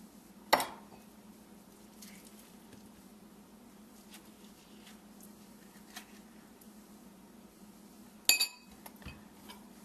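A small spoon scoops ripe avocado into a bowl, giving two sharp, close clinks against the dish, one near the start and one near the end, with quiet kitchen background between.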